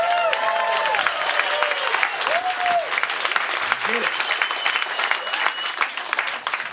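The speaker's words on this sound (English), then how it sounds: "Give yourself a round of applause." Comedy club audience applauding during a stand-up special, dense clapping and some cheering from the crowd, with a voice talking over it.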